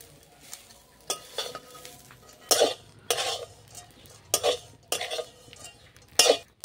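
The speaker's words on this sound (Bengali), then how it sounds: "এরপর এটা ভালো করে নাড়াচাড়া করে ভেজে নিতে হবে।" Sprouted wheat being dry-roasted in a kadai, stirred with repeated scraping strokes in bursts about every second, close and fairly loud against a faint background, with no talking.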